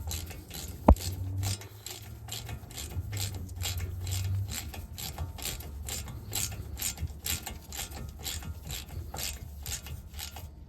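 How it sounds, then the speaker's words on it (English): A ratchet wrench on a T40 bit tightens a bolt during a Mercedes-Benz ML brake job with new pads and rotors. It clicks in a fast, steady train of close pawl ticks, with one sharp knock near the start. "Get your T40 torque. Tighten it up."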